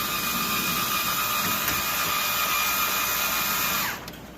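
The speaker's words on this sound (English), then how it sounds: "Be sure when you're gonna tighten down these screws not to be too tight because it is on plastic." Power driver tightening screws into a plastic elevator motor cover, a loud steady whirring drone held for about four seconds before spinning down and stopping, close up with no talking.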